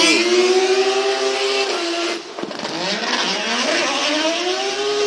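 A Formula Drift car at Sugo during qualifying screams through the drift zone, its engine wailing loud and high, then dropping off sharply before revving back up amid tire noise.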